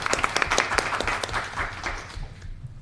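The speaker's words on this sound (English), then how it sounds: "Let's give a round of applause." Applause at a river committee meeting, a modest group clapping with distinct individual claps that thin out and fade toward the end.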